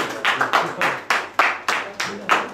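A few people applaud a restaurant chef at a gastronomic award event, with sparse, loud, close handclaps in an uneven rhythm of roughly a dozen claps.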